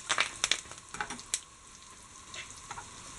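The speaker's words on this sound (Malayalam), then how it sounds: "ഇതിലേക്ക് കറിവേപ്പില, കറിവേപ്പില ഒന്ന് ജസ്റ്റ് ഇളക്കി കൊടുക്കാം." Curry leaves are stirred into golden fried onions for a Kerala beef fry, a soft steady sizzle with a few quick crackling spatters and spoon scrapes near the start, then settling to a quieter hiss.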